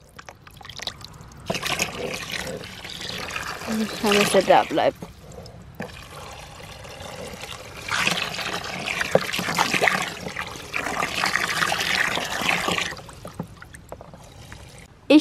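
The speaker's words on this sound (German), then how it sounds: "ich fülle jetzt eben das Wasser auf" Water pours and trickles into a horse's trough at a stable in bursts, splashing at close range while someone talks over it.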